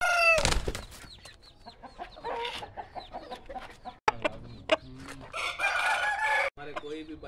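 Aseel roosters crowing loudly and clucking nearby, several crows and clucks in quick succession with short gaps of quiet between them.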